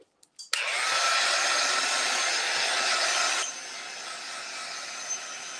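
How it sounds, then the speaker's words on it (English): Heat gun blowing hot air to dry paint on a Gelli plate print: a steady, loud whirring hiss starts after a couple of clicks, runs for about three seconds, then drops to a softer continuous blow. "maybe I'll just hit with the heat gun just to be sure."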